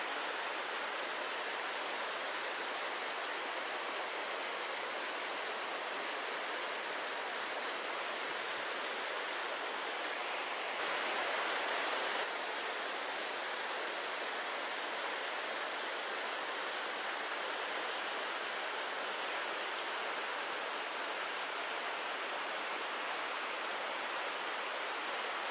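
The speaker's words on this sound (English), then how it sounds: "The river is flowing high." River Livet running high beside the Packhorse Bridge at Glenlivet, Scotland, in January, a steady broad rushing wash of water, continuous and even throughout with no voices.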